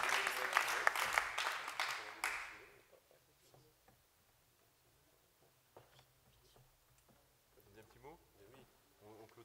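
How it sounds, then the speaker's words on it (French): A burst of applause from a conference audience, loud clapping for about two seconds before dropping away into faint room noise and scattered sounds. "je pense que ça peut s'applaudir quand même"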